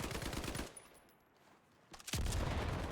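Rapid bursts of STG assault rifle fire in the World War II shooter Battalion 1944, a loud automatic volley, a brief lull, then another heavy burst with clattering shots.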